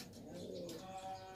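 Racing pigeons coo softly and steadily under a cloudy sky, a low continuous murmur from birds near the loft.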